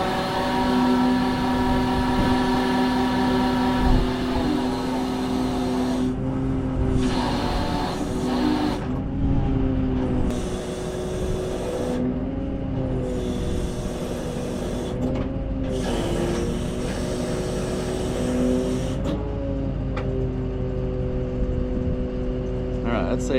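A truck engine idles and revs while its hook lifts a heavy windmill sucker rod at a broken windmill near Oklahoma City, a steady droning hum that rises and dips in pitch, with speech over parts of it.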